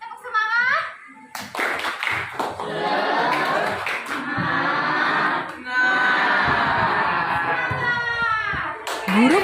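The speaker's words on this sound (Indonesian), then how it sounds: "Nah, tepuk semangat." A school class does a rhythmic spirit clap, with patterned bursts of many hands clapping in unison mixed with students' chanting voices, loud and close in a classroom.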